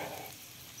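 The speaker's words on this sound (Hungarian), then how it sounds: "karikára vágva megsütni, látod?" Sliced pork sausage fries in hot lard, a faint, brief, steady sizzle and crackle on its own.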